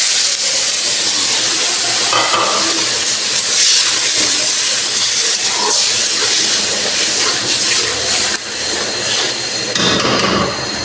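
Water poured onto a hot frying masala of turmeric and chilli powder while cooking poultry meat bhuna: a loud, harsh hiss of steam that runs almost unbroken, with scraping and clattering underneath and a brief dip near the end.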